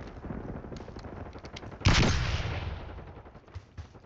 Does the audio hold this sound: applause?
no